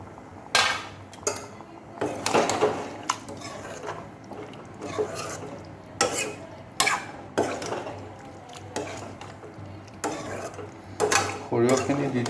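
A utensil repeatedly scrapes and clatters against a cooking pan as ground mustard paste is added and stirred, in irregular bursts of knocking and scraping strokes close by.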